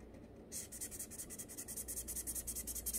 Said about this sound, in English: I'm gonna color it quickly.